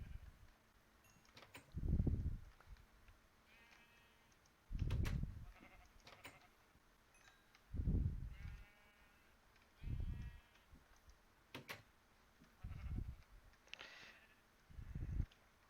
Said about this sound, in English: Gonna try and avoid hitting my sheep.